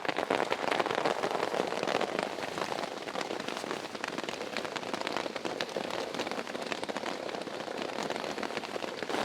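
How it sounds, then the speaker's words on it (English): Heavy rain falls outdoors in a dense, steady hiss of drops spattering on surfaces, holding an even loudness throughout with no voices. "it's starting to rain hard"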